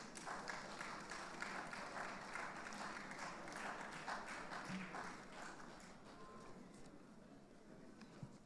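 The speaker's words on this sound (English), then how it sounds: "A round of applause for him" An audience applauds at an international conference and annual general meeting, a faint, distant wash of clapping that holds steady and then thins slightly toward the end.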